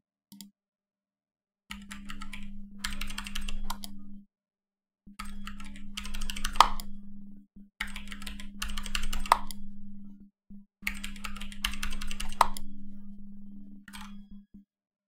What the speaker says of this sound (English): try with the keyboard. 3131 W four times and left click.